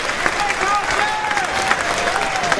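A baseball crowd at an ACC championship game between NC State and North Carolina applauds and cheers, dense clapping with whistles and shouts rising over a broad stadium roar.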